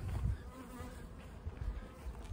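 A dense, steady hum of honeybees flying around their hives fills the air, soft and close, with low rumbles from the wind and no voices.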